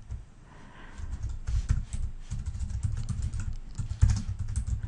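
Typing on a computer keyboard while working in an Excel spreadsheet: a continuous run of close, quick key clicks with a few heavier strokes, no voices.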